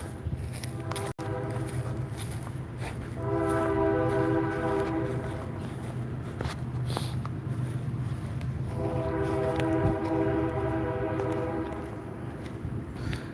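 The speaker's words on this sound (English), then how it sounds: "You gotta love the trains." A train rolls past with steady low rumble throughout, its horn blaring in two long sustained blasts, the second after a pause, loud and close with no talking.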